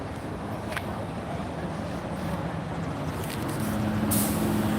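An interstate long-distance bus rumbles past loudly with a steady roar and air brakes, and the noise swells slightly toward the end.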